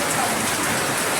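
Steady rain pours down outside a home on a rainy day, a dense, even wash of patter close by with no pauses and no voices.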